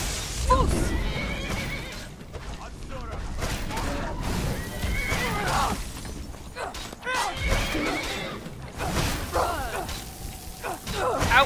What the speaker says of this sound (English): Don't you kill my horse!